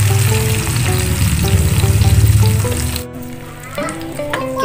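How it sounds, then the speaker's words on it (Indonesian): Ground spice paste for sambal goreng with tuna and stink beans hits a hot oiled pan, loud close sizzling and frying that swells, then drops away to softer crackle with light stirring clinks. "Sekarang kita tuang bumbu yang sudah kita haluskan tadi ya"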